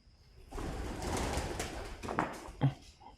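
A pigeon coos inside the tower of an abandoned air force base. The soft, throaty calls sound close in an echoing room, ending in a sharper coo.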